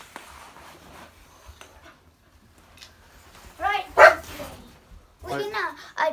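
A dog just roused from sleep barks and yips in short bursts nearby, with quiet talk and indoor rustling before the barks.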